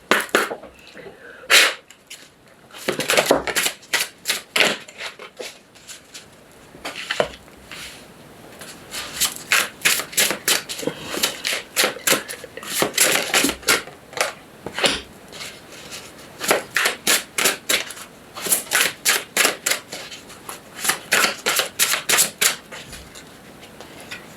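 Oracle cards being shuffled and drawn, a long stretch of crisp, rapid card flicks and riffles in dense bursts with brief pauses, recorded close with faint talk in places.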